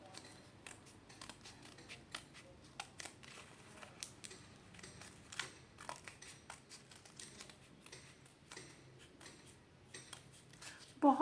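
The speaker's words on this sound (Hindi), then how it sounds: "काट लीजिए सीजर से। अभी मैं आपको काट के दिखाती हूँ।" Scissors snip through folded, doubled paper to cut out butterfly wings, a close series of small, irregular crisp cuts and rustles, soft overall, with a louder handling noise at the very end.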